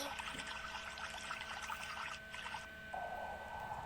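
River water runs and trickles steadily at a low level, like a current carrying an umbrella downstream, with a soft shift in the flow near the end.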